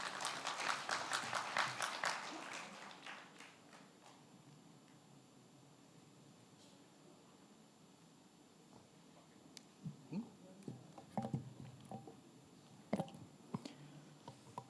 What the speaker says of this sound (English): Please give warm applause to him.